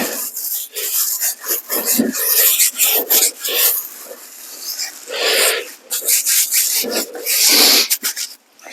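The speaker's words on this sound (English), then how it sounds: "Just give it a bit more scrubbing." A brush scrubs a rubber car tyre during a wheel and tyre cleaner test, giving loud, continuous rasping strokes in an uneven back-and-forth rhythm, close up, with short pauses between bursts.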